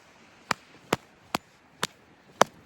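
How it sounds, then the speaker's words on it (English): Five sharp, evenly spaced blows strike thick ice while cutting a fishing hole after a snowstorm, each a crisp close thud-crack about half a second apart over quiet outdoor background. "I've been hammering at the ice for about 10 minutes now."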